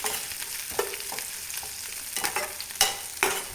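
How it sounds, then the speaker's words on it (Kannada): Greens, cloves and spices frying in coconut oil in a home kitchen, with a steady soft sizzle broken by occasional stirring scrapes and clinks, fairly quiet and heard alone. "ಸೊಪ್ಪು ಲವಂಗ ಎಲ್ಲವನ್ನು ಹಾಕಿ ಎಣ್ಣೆಯಲ್ಲಿ ಫ್ರೈ ಮಾಡ್ಕೊಳ್ತಾ ಇದ್ದೀನಿ"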